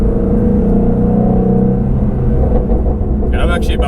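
A Ford Mustang Shelby GT350 engine held around 4,000 RPM in second gear while driving, a loud, constant low rumble and drone from inside the car, close and steady throughout.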